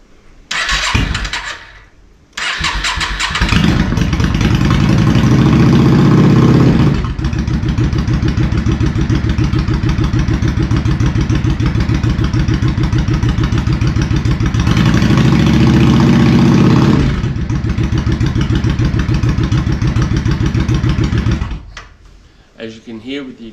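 A 2013 Yamaha XVS650 Custom cruiser motorcycle, lowered at the rear and fitted with an aftermarket exhaust, is started and idles with a deep, throbbing rumble up close, with a couple of revs swelling louder before it shuts off.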